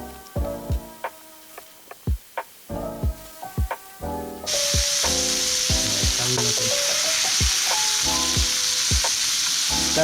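Ground beef for jambalaya is handled in a pan with a few scraping knocks, then hits the hot surface and breaks into a steady, loud sizzle that holds close and constant to the end.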